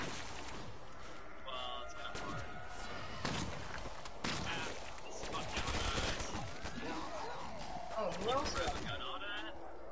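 Gunfire and explosive bursts in Black Ops 3 Zombies, steady and dense across the whole stretch, with a few louder cracks standing out and players chatting over the shooting.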